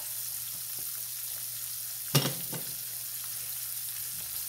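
Red snapper fries in a skillet with a steady, faint hiss of oil. A brief louder crackle pops up in the middle, and the sizzle runs on alone with no voices.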